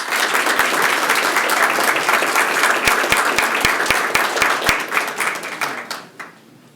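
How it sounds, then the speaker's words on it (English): Audience applause at a county commissioners meeting rolls on steadily, with a few isolated low thumps near the end, before fading out over the last second. "If you would give them a round of applause."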